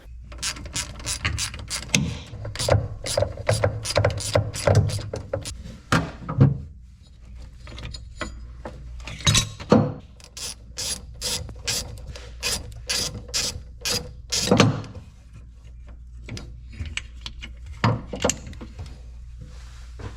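A ratchet loosens the 9/16 bolt and nut on a Corvair automatic belt tensioner, giving loud, close bursts of rapid clicking with short pauses between strokes.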